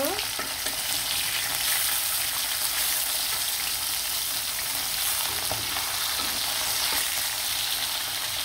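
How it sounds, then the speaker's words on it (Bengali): Hilsa fish frying in hot oil, a steady, dense sizzle and crackle close up that runs unbroken throughout, with no voices. "মাছটা কিন্তু খুব সুন্দরভাবে ভেজে নিব"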